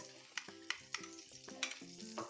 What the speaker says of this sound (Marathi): दोन टेबलस्पून तूप घातलं आहे आणि एक टेबलस्पून बटर घालूया